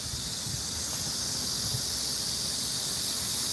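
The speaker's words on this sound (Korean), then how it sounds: "어우, 매미 소리." Cicadas buzzing on a summer walk near a reservoir, a dense, continuous high-pitched drone that stays loud and steady throughout with no talking.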